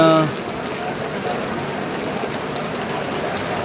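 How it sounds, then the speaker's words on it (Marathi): Dense, steady hiss of heavy monsoon rain pouring down on a flooded Mumbai street in Ghatkopar, constant and fairly loud throughout, with a brief tone at the very start. "पाऊस चालू आहे असा"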